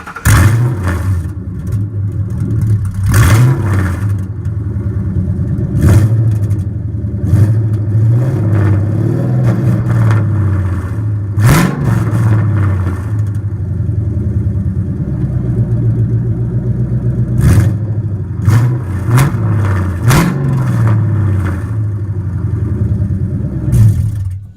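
A Mustang V8 with freshly installed headers idles loudly up close, its deep steady rumble broken repeatedly by short sharp revs and a few quick blips spaced through the run.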